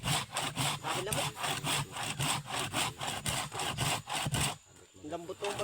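A handsaw cuts through wood in steady back-and-forth strokes, close and loud, about a dozen rasping passes before the sawing stops.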